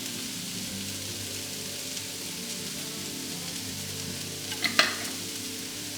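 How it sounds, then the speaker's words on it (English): Vegetables and minced garlic are stirred in a pan with a soft continuous sizzle and light scraping, fairly quiet and steady, with a small clink near the end. "Going to give this a good stir."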